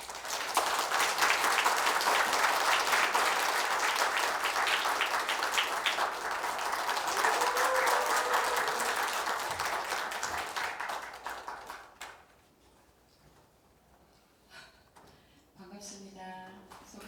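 An audience applauds to welcome a singer onto the stage at a poetry-song concert. Dense, sustained clapping fills about twelve seconds, then fades quickly into a quiet hall with a few scattered faint noises.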